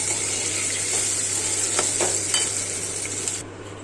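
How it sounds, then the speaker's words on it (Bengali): Paneer frying in a pan gives a steady close sizzle with a few brief stirring scrapes midway, then the hiss drops away near the end; a low constant hum runs underneath and no one speaks. "পনির ভাজা বসিয়েছে পনির বেশি ভাজে না ভাজলে পরে শক্ত হয়ে যায়"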